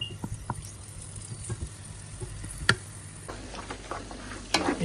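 Raisins in hot ghee crackle softly, with a faint, patchy sizzle broken by scattered clicks and taps from stirring.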